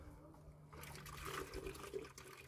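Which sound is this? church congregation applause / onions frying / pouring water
pouring water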